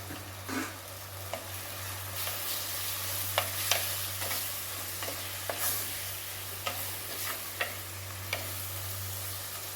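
Chicken tossed with chilli powder in a hot pan, a steady close sizzle broken by repeated scraping stirs of a spoon against the pan every second or so, no voices.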